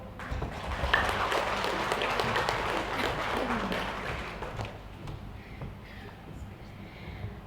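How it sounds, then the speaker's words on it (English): Applause from an audience at an International Women's Day event in a civic centre hall in Fiji follows a speech, a steady wash of clapping that gradually thins out and fades toward the end. "Ladies and gentlemen, please, another big round of applause."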